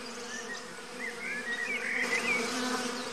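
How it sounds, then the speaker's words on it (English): Dense, steady buzzing from a swarm of honeybees, a continuous droning hum that swells slightly louder toward the end. "There's nothing odd to our eyes about swarming bees."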